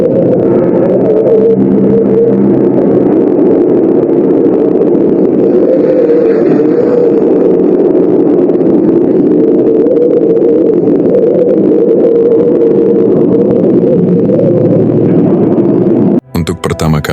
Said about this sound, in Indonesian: Ini adalah suara dari planet Mars.